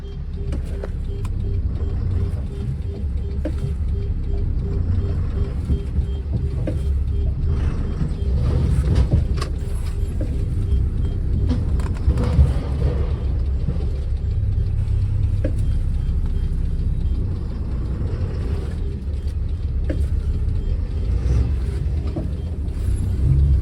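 A loaded tipper truck, a ten-wheeler hauling cow dung, drives on with a steady, close, low engine rumble and mechanical drone that holds level for the whole stretch, with no voices.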